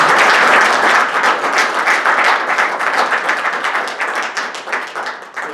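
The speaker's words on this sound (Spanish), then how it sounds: "Os pido un aplauso para..." Audience applause after a debate talk, dense and loud at first, holding steady before thinning toward the end, with individual claps becoming more distinct.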